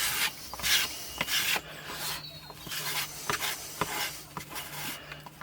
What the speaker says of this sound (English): Try and keep your kidney scraper, which I use, fairly flat, and try not to cut too much away.